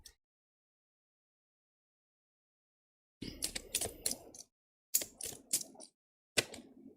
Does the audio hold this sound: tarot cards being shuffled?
yes